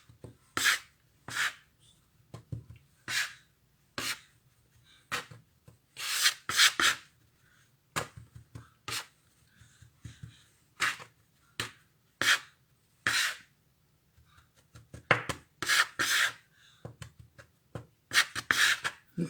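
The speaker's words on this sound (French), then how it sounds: "je me sers de la corne pour mélanger tout simplement" Flour, sugar and salt being mixed in a bowl with a pastry scraper: a rhythmic series of short, dry scraping strokes, close and crisp, with brief pauses between bursts.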